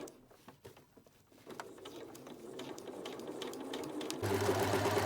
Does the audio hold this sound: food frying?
no